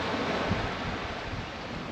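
Sea waves washing against a rocky beach, a dense continuous roar of surf mixed with wind buffeting the microphone, steady and loud throughout with no speech.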